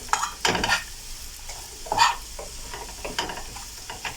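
Carrots and other vegetables stirred in a pan for breakfast, with several scraping, clattering strokes of a utensil over a soft sizzle, close and fairly loud.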